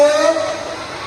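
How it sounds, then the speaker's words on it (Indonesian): First-grade children at an Islamic primary school Isra' Mi'raj celebration shout loudly together in a brief, sustained, high-pitched group cry. "Teriakan tingginya kelas 1"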